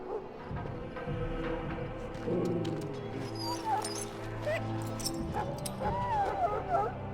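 A sick hound in Dragon Age Origins, poisoned by darkspawn blood, gives thin high whimpers and soft yips, faint and close, over low game music and someone talking.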